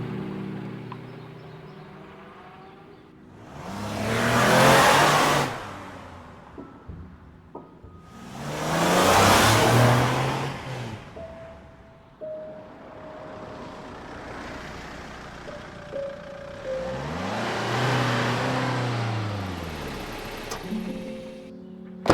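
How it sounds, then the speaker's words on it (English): A car driven through the gate of a cemetery and along its winding roads in an audio drama: several loud vehicle passes swell and fade, one after another, with a faint insect-like drone and no talking. "Pearl drives through the gate of Sunset View Cemetery and winds around a couple of roads"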